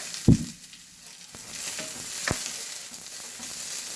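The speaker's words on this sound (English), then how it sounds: "I'm starting off with the onions because I want the onions tender" Onions frying in a little oil in a skillet for a seafood boil sauce make a continuous close sizzle, broken by a sharp knock at the start and a few light utensil taps.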